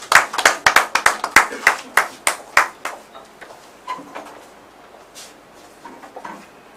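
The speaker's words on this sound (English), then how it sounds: "Let's give a round of applause, please." Audience at a national pledge event against illegal mining gives a round of applause for a Reverend: a burst of sharp individual claps, loud at first, thinning out and fading as the crowd settles.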